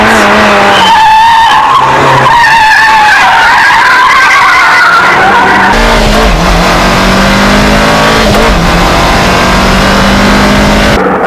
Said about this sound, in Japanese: Nutahara jumps into the first corner in 4th gear